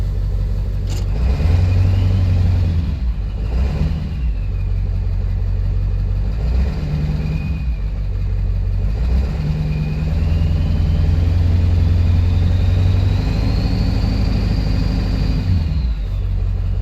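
A 1999–2003 7.3 Powerstroke diesel pickup with a straight-piped exhaust, with a deep, loud, close rumble and clatter that rises and falls through several revs. A faint turbo whistle climbs and fades above the engine.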